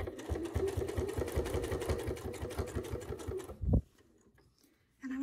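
Sewing machine stitching binding onto a quilt: a close, rapid mechanical whirr of needle strokes that halts abruptly, then a thump, a pause, and the motor starting again.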